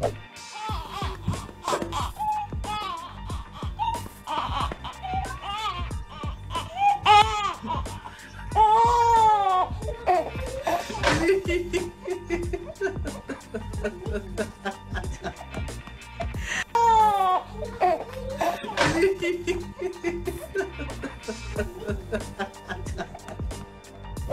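An infant cries in repeated rising and falling wails with gasping breaths between them, loud and close, under almost constant talk.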